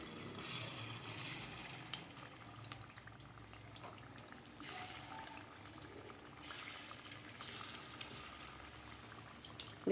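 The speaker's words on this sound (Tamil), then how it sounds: "இந்த ஆயில் சூடானதும் இதில் போட்டு ஃப்ரை பண்ணலாம்." Potato 65 pieces deep frying in hot oil, a steady low bubbling sizzle with a few small pops, heard alone throughout.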